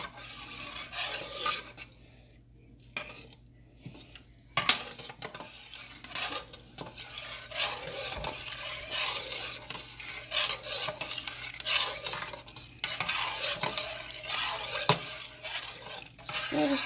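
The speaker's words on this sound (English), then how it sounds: "So I'm going to keep stirring that because I want that to come to a boil." A spoon scrapes and stirs yellow rice in a pot, a steady rasping, clinking rhythm close up with faint sizzling, continuing through the whole stretch.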